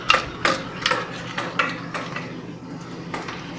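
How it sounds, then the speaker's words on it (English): A spoon stirs homemade chocolate syrup in a metal pot, giving a steady series of light clinks and scrapes roughly every half second, fairly close and with no talking. "And you want to stir it till it looks smooth"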